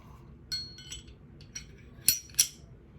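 A Glock pistol barrel is slid back into the slide, giving several small, close metallic clicks and two sharper clinks near the end, with no talk.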